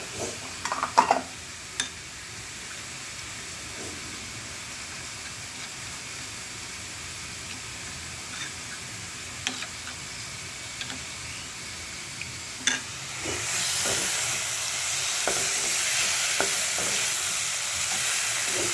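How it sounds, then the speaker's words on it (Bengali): Ground spices loosened with a little water sputter and sizzle in a pan while being stirred, with scattered spoon scrapes, and the hiss grows louder and brighter toward the end. "এটা কষাতে কষাতে গুঁড়ো মশলাটির মধ্যে সামান্য জল দিয়ে আমি এটাকে গুলে নিলাম"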